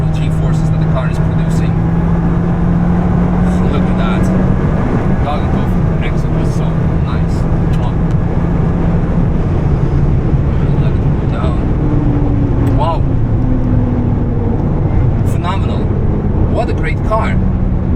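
Steady engine drone and road noise from a modified street-legal Alpine A110 sports car while driving, a constant loud hum with shifting pitch as speed changes, with a person talking over it.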